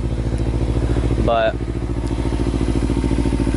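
Kawasaki motorcycle engine idling, a steady close low throbbing rumble with a brief squeal partway through, as someone speaks briefly.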